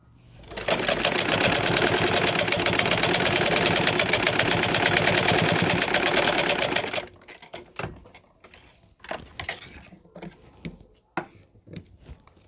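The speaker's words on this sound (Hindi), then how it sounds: "अब हम यहाँ सिलाई लगा लेंगे" A sewing machine runs in one continuous, fast, even stitching burst for about six seconds while making a flower latkan for a blouse, then stops, leaving scattered clicks and handling noises of the fabric.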